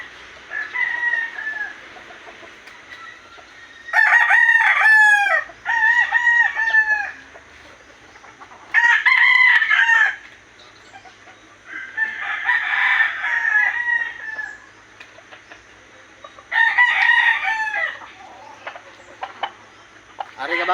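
Backyard chickens being bathed, with a rooster crowing repeatedly in loud, close bursts and hens clucking between crows over a quiet background hum.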